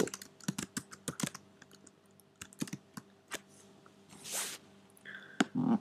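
Typing on a computer keyboard, a string of crisp close key clicks in uneven bursts with short gaps, followed by a soft rustling sweep and a couple of final clicks.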